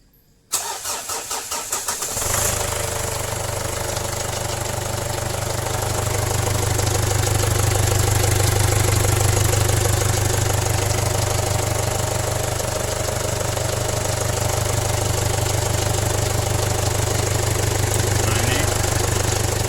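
A 2009 Ford Everest TCDI turbo diesel with a blown turbo cranks with a rapid, stuttering starter, catches, and settles into a loud, steady rough idle. The idle holds close and continuous to the end.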